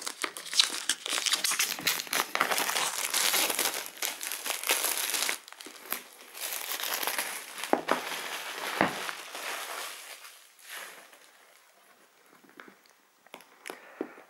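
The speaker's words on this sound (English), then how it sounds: "let's see if we can put my nails there and get the plastic off" Plastic wrap being peeled off a Lenovo Yoga Tab 13 box with fingernails, with close, busy crinkling and tearing that thins out into sparse rustles toward the end.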